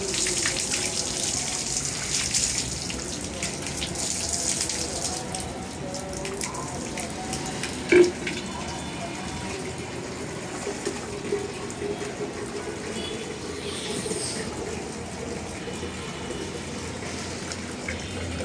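Water is poured over a cow as it is bathed before Qurbani. A continuous splashing gush of running water carries on throughout, with a sharp knock near the middle.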